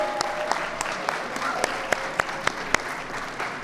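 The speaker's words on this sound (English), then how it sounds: "Let's give them a round of applause, please." Guests at a Pride reception in the Chicago Cultural Center applaud council members. The moderate, steady clapping fills the hall, with a few sharp individual claps standing out near the listener.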